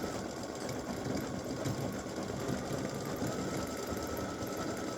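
An embroidery machine runs a continuous stitch on a Christmas gnome girl appliqué, its steady, fairly loud rapid needle chatter carrying on without a break through the whole stretch.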